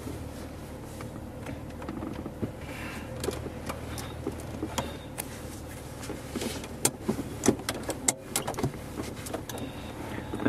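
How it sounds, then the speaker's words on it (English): A car pulls out of a driveway with crackles, clicks and small knocks from inside the cabin over a low steady rumble, close and fairly quiet. "we're going to go ahead and pull out of the driveway here"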